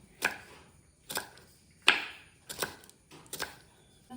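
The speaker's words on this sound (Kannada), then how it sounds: "ಇನ್ನು ಬೀನ್ಸ್ ಕಟ್ ಮಾಡಬೇಕು, ಇದು ಕೂಡ ಹಾಗೆ ಸಣ್ಣದಾಗಿ ಕಟ್ ಮಾಡಬೇಕಾಯ್ತಾ ಹೀಗೆ" A knife chops beans finely on a cutting board, about six crisp separate chops at an irregular pace, close and fairly quiet in an otherwise still room.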